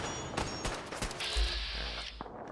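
Gunfire from Rust Devil raiders in Fallout 4: several sharp shots scattered through the moment, followed by a sustained whine and low rumble, with no talking.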